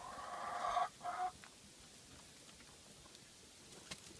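Hens in a backyard egg-layer hen house let out a couple of close, fairly clear clucking calls early on, then the coop goes quiet apart from a faint background hiss and a small tap.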